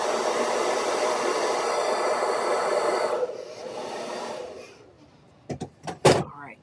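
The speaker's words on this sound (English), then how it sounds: "let me throw my blow dryer on that real quick." A blow dryer runs steadily for about three seconds to dry foam craft paint, then its whir winds down and fades, followed by a few soft knocks and handling sounds.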